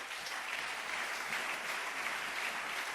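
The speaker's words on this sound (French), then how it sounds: "Nous acclamons cette parole." A church congregation applauding at a service, a steady, fairly faint wash of clapping from many hands that lasts throughout without a break.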